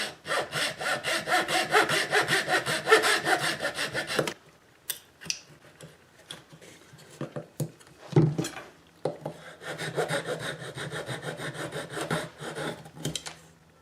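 Indian rosewood veneer on a soprano ukulele peg head being sawn square by hand, steady close rasping strokes for about four seconds, then a pause with scattered knocks and scraping before a second run of sawing strokes.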